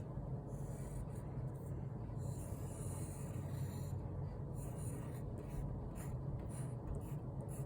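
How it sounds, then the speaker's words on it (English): Steady scratchy rasp of a pencil drawing on paper, sketching a symmetrical robot, running continuously at a soft, close level with no talk. "And I'm drawing with pencil first."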